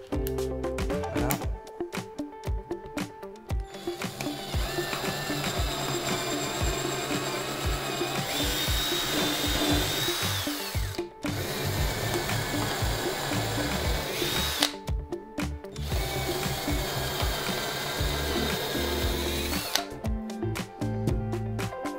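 A powerful cordless drill fitted with a small drill bit whirs in several long bursts with short pauses between them, loud and close, with some faint talking underneath.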